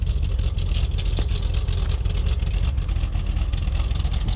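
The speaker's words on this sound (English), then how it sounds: "I love this thing at idle." A 1964 Dodge Polara 500 with a Mopar big block V8 and four-speed idles close by, a steady deep rumble with an even, lumpy pulse throughout.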